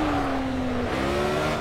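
A racing car in a racing simulator video game, its engine revving hard with a steady rising whine that dips at a gear change and then climbs again, loud and alone.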